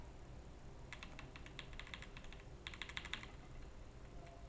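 Computer keyboard keys tapped in quick clusters, including repeated presses of Enter, light crisp clicks over a steady low hum, fairly quiet and close, no talking.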